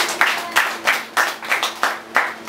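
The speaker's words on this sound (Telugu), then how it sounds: "కొట్టు చప్పట్లు ఒకసారి గట్టిగా." Audience clapping in rhythmic bursts at a Telugu Christian sermon, loud and close, about six sharp surges in quick succession with no talk over them.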